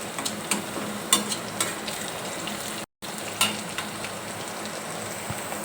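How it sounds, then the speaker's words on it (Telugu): Chopped onions sauté in a hot pan with oil, giving a steady soft sizzle dotted with light crackles and the occasional stir, close and with no talking. "ఒక 1 మినిట్ ఇలా సాటింగ్ చేస్తున్నాము"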